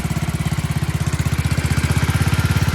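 A 1967 Sears Super 12 garden tractor engine runs steadily at close range, its small single-cylinder exhaust thumping in a fast, even pulse with no one talking.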